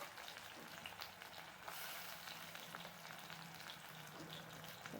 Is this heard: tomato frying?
yes